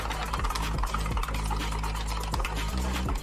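Blender running during a kitchen cooking session, a steady loud motorized whir with a low hum that surges in brief rhythmic pulses throughout, close up with no talk.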